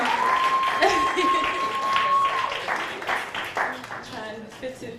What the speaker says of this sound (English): If you would please give the team a round of applause for this fantastic job